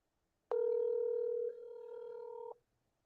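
A phone call tone plays over a speakerphone held up in a quiet room: a single clean electronic tone lasting about two seconds that drops in pitch and loudness halfway through, then cuts off.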